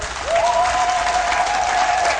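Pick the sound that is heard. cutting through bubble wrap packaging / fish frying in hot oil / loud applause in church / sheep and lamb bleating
loud applause in church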